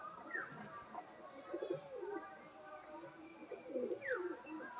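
Pigeons in a loft keep up a soft, repeated burbling coo with occasional faint higher chirps, fairly close but quiet.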